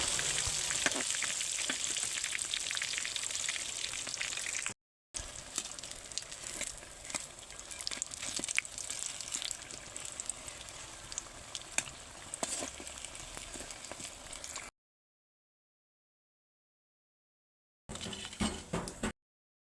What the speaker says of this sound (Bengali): আমি কিন্তু এই যে এইভাবে ভেজে নিচ্ছি আমি একটু কড়া করে ভাজি করব